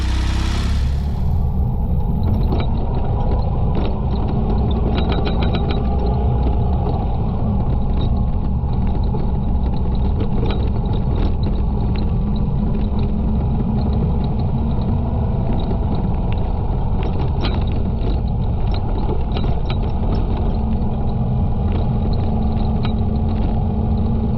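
A vehicle engine labours steadily uphill through fog at 3500 m altitude, a continuous loud low rumble with mechanical rattling that holds throughout without a break.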